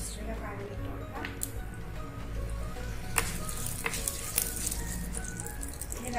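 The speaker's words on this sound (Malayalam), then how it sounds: "എണ്ണ ചൂടായിട്ടുണ്ട്. നമുക്കിതിലേക്ക് എടുത്ത് വെച്ചിട്ടുള്ള കടുക് ഇട്ട് കൊടുക്കാം." Mustard seeds hitting hot oil for a chili pickle, crackling and popping in a steady sizzle with a few sharper pops, heard close up while a person talks over it.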